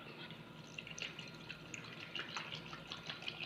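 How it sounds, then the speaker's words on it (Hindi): About half a litre of milk pours into a peach shake over three ice cubes, making a faint, steady liquid splashing and trickling sound throughout. "और मैं कम से कम ½ लीटर दूध जो है वो डालूंगी"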